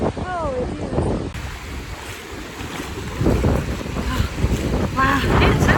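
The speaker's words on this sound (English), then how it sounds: "It's windy as hell, but it's not pouring rain." Strong wind gusting on Lake Laberge during a Yukon River paddling trip, roaring steadily into the microphone with rushing water beneath and brief voices calling out near the start and end.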